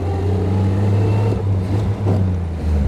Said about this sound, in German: Oh, toller Motor.